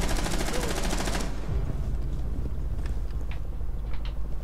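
Rapid automatic gunfire in the video game Rainbow Six Siege: a dense burst of shots for about a second, then quieter scattered game sounds and faint distant clatter.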